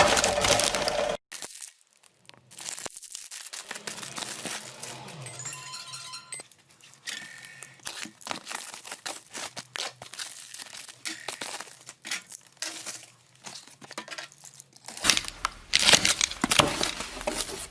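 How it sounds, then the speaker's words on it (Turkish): A new replacement heating element for a sandwich toaster is unwrapped from its package, giving close, intermittent crinkling, rustling and light clinks with short pauses, and a louder burst of handling near the end. No talking. "Şimdi internetten aldığımız resistansımızın paketini açalım bakalım"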